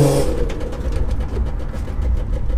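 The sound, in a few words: Nissan Skyline R32 engine during manual test drive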